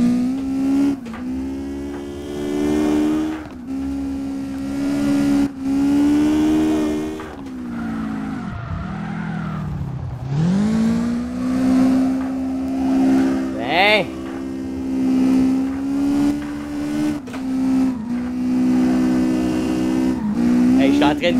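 A drifting car in CarX Drift Racing Online on Xbox One, driven with a Logitech G920 wheel, with a sustained engine drone, revs rising and falling through gear changes and tire squeal, continuous and loud throughout.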